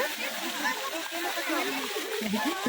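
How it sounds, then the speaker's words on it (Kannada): Water splashes continuously at a lakeside while voices talk over the steady wash. "ಅಮ್ಮ ನೀರು ಹೊಡೆಯೋದು ಖುಷಿ ಆಗದ"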